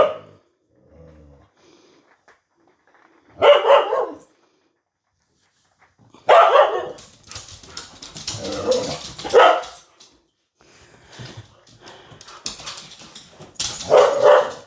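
Huskies indoors at home give bursts of barking, yips and whimpers, loud and close, separated by quiet gaps across the clip.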